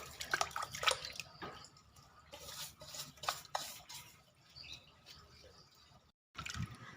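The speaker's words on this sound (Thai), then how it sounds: "คนให้เกลือละลายค่ะ" Salt stirred into plain water in a bowl for soaking wild yam slices: intermittent close swishes, drips and light clinks against the container, with a brief silent pause before the stirring resumes.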